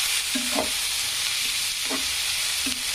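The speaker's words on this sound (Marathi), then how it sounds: "छान असा कांदा तळू द्यायचा" Finely chopped white onion fries in oil in a pan until golden: a constant bright sizzle broken by three distinct spatula strokes scraping through the pan.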